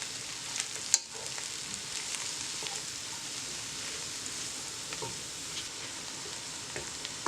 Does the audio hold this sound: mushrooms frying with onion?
yes